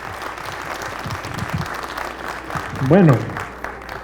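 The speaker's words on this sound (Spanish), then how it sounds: "les daría un buen aplauso para ellos" Applause from a lecture audience claps under a voice speaking over it, with a brief louder vocal sound near the end.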